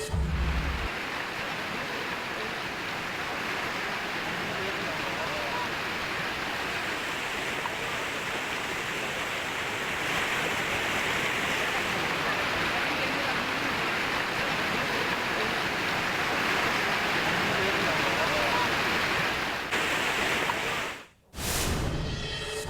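A swollen river in flood in Rajouri, Jammu and Kashmir, rushes past in a broad, steady roar of turbulent water that stays loud and unbroken and drops out briefly near the end.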